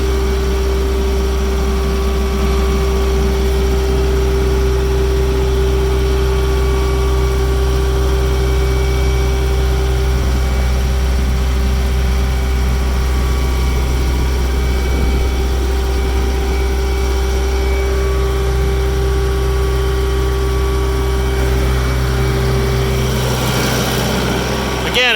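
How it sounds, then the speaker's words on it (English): A Kubota M108 tractor with front loader idles at a tractor dealership in Fort Myers, Florida, its engine giving a loud, steady, close-up drone with a constant hum that runs unbroken throughout. "Again, it's a 2013 Kubota M108 tractor and loader."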